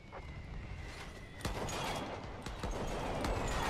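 Artillery fire in a WW1 Total War Great War mod battle, Italian front with field guns, howitzers and big guns, heard as a steady rumble of distant blasts, with sharper booms near 1.5 and 2.5 seconds.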